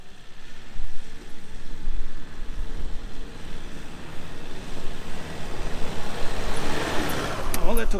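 A Toyota Hilux pulls away after several tries to get free, its engine rumbling with steady road and wind roar, loud and close throughout, swelling toward the end.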